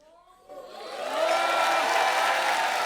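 Applause and cheering from a studio audience welcoming a guest on a comedy talk show, swelling from quiet into a sustained, dense roar.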